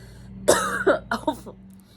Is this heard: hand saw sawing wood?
no